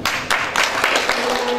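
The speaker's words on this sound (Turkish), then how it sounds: "Alkışlarımız efendim." Audience applause at a commemorative seminar as a performer is welcomed on stage, steady dense clapping throughout with a few louder bursts, no voices.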